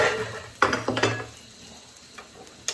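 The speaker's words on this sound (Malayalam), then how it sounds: "ഇതിനെ ഒന്ന് ഇളക്കി യോജിപ്പിച്ച് കൊടുക്കട്ടെ" Curry being stirred and mixed in a pot, a few clanking scrapes of a utensil against the metal around the first second, then quieter shuffling and a final sharp clink.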